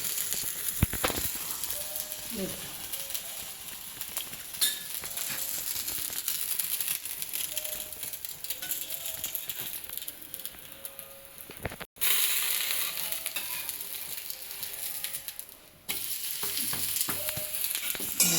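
A moong bean talipattu flatbread roasting with oil in a pan, giving a continuous close sizzle and crackle with occasional scraping and tonal squeaks, briefly broken by two short pauses.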